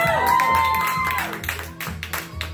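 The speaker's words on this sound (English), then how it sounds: "The people there get clapped. You gotta clap." A studio audience on a live comedy show claps and cheers, a lively burst of applause with whoops that fades toward the end.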